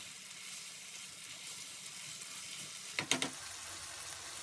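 Capsicum and frozen corn frying in a pan while cooking Hyderabadi chicken tahari, a steady soft sizzle throughout with a brief cluster of clinks or stirring knocks near the end.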